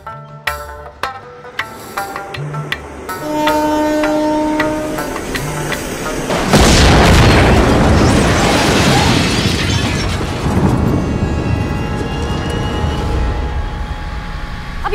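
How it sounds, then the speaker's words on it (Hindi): Bomb blasts in a Mumbai film scene: a few sharp thuds and clatters give way to a sudden loud roaring explosion with a long crashing, rumbling tail that stays loud to the end. "अभी खबर मिली है मुंबई में 3 जगहों पर बम धमाके हुए हैं।"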